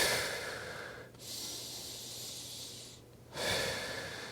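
Slow, steady breathing during a meditation session: two long, airy exhales separated by a quiet inhale, close and soft, with no talking.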